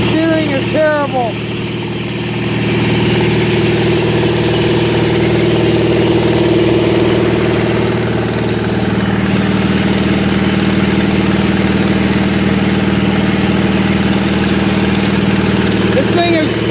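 Riding lawnmower engine running after a pulley swap, a steady close idle drone that rises slightly in pitch partway through, with someone talking over it.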